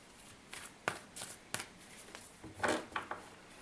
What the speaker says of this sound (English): Let me just shuffle here for a second.